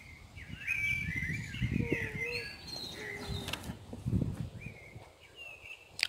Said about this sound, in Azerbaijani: Quşların da səsinə gözəl gəlir.